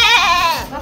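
A goat gives one loud, close bleat, a short wavering cry that fades out within a second.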